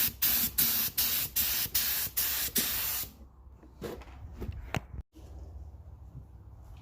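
Clear coat sprays onto the tail lights of a 2012 Jeep SRT8 in about eight quick, loud, evenly spaced hissing bursts, followed by quieter clicks and handling noises.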